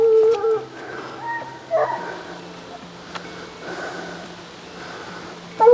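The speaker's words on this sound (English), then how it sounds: "If they're barking, that means they're on a scent" Dogs on a scent during a canyon hike give scattered barks, yips and drawn-out howls at a moderate distance, coming in short bursts separated by quieter stretches of outdoor ambience.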